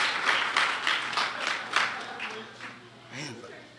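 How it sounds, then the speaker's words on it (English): An audience claps in a short, uneven round, moderately close, fading toward the end as a voice begins over it. "the clapping is scary"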